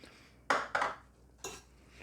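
Tuna being mixed with mayonnaise in a bowl, giving three short, fairly close scraping strokes of a utensil against the bowl, separated by brief quiet gaps.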